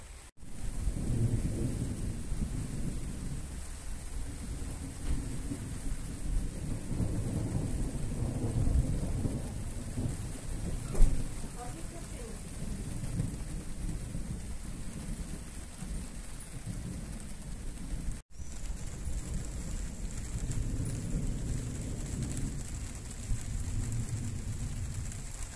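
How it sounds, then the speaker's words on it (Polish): Steady rain pours down with low rolling thunder throughout, one sharper crack near the middle, heard from close by with no voices. "Jest burza i pada."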